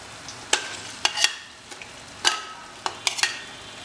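Boiled mutton and keema stirred into onions frying in ghee, a low sizzle broken by several sharp scraping clatters of a spoon against the pot, close and without speech.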